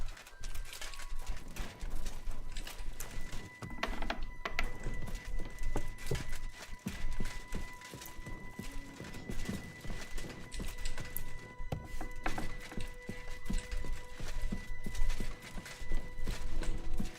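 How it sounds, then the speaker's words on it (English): Quick, steady clip-clop of horse hooves trotting in the video game Kingdom Come: Deliverance II, faint and continuous over a quiet electronic background. "Is that Lord Van Burgo horse"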